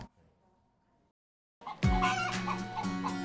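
Free-range chickens on a small family egg farm raising blue-egged hens, a dense chorus of clucking and chattering fowl suddenly rising loud and close after a near-silent start.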